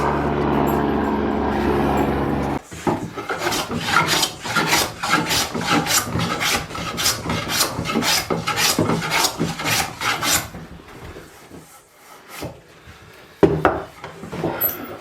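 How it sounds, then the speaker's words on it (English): Rhythmic rasping strokes of a hand plane shaving a wooden deck board, a dozen or so even passes close by, after a brief machine hum. "We'll plane that off."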